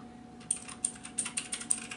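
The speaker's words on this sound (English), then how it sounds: "Hear that click of the mechanical keyboard." Crisp clicks of a Thermaltake RGB mechanical keyboard, six or seven keystrokes in a quick irregular run, close up and with no talking.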